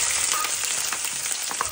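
Garlic and onion fry in hot oil with a steady, close, bright sizzle and crackle that holds without pause, no voices.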